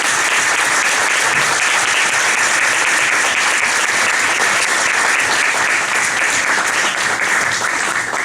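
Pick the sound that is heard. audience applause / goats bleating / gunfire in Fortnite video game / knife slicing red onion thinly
audience applause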